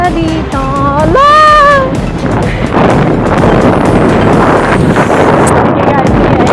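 Strong wind buffets the microphone on a long footbridge at Luba, Abra, a steady roaring rumble throughout, with a brief whistle-like tone near the start and people talking faintly under it.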